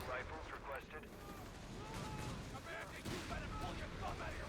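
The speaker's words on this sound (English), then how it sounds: "just in time to deal with that 75mm artillery barrage coming out from the captain" A 75mm artillery barrage in Company of Heroes 3 booms and rumbles continuously beneath the steady chatter of a live tournament commentator, with overlapping dense battlefield noise throughout.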